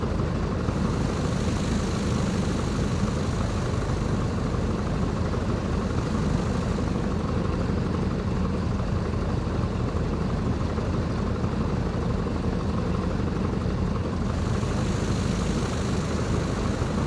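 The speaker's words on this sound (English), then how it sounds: "Great, you're now in a Piper Cub." Piper Cub propeller engine taxiing in Flight Simulator X, a steady, loud droning hum with constant rhythm, no voices.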